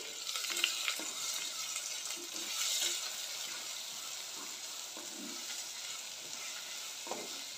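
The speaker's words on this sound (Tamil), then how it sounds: "வெங்காயம் ஓரளவுக்கு வதகிறது வரைக்கும் இதை நல்லா வதக்கிக்கலாம்" Chopped onions sauté in a pan for a vada curry, a soft steady sizzle with light scraping stirs, fairly quiet throughout.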